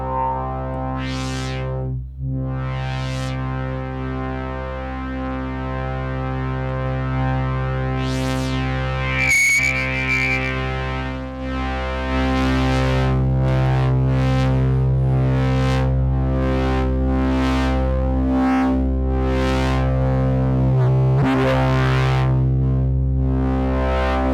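A circuit-bent synthesizer module, starved of voltage, misbehaves: glitchy electronic tones drift and warble over a steady buzzing drone, with chirps, sweeping pitches and distorted bleeps shifting unpredictably throughout.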